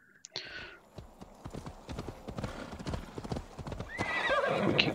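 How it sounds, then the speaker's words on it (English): A horse's hooves clip-clop in a steady rhythm in the Assassin's Creed Valhalla video game, with a whinny at the start and another near the end, and a voice speaking quietly underneath. "We can get off our horse."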